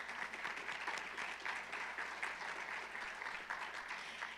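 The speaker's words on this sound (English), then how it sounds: "So just give them a quick round of applause." At an entrepreneurship event, a large audience applauds in a dense, even wash of clapping that holds steady at moderate distance, fairly faint.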